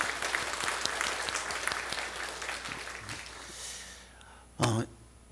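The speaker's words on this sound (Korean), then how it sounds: "여러분 박수로 다시" Church congregation applauding after a choir's hymn, a dense patter of clapping that thins and fades over several seconds, then a brief loud knock near the end.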